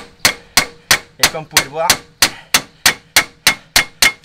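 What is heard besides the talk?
aluminium hammer striking a Peugeot 206 driveshaft end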